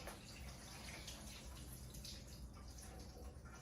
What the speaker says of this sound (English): we're gonna strain the water out like this